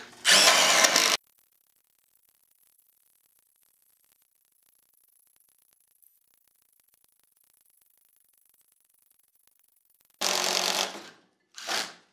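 A Milwaukee cordless drill bores holes into a 2x4 on a nearly flat battery, sounding as a loud whirring burst at the start, then long silence, then another burst and a shorter final spurt.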